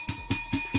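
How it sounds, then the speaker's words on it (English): A bright bell rung to welcome a viewer on a live stream, struck four times in an even, quick rhythm, each ring clear and close with a short ringing decay. "Let's ring the bell for Miss B in the building"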